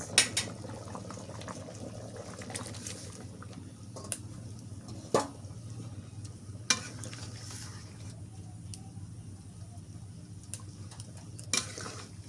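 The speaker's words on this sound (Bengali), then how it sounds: "এদিকে আলু কষানো হয়ে গেছে বলক উঠে গেছে এবার মাছ দিয়ে দিই" Fish pieces go into a pot of boiling potato curry, with soft bubbling, stirring and a few sharp clinks of a utensil against the pot over a steady low simmer.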